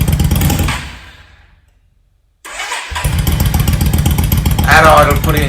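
A Yamaha V Star 650 (XVS650 Dragstar) bobber build motorcycle engine runs loudly, dies out into near silence, then is restarted and settles into a steady, throbbing idle close by.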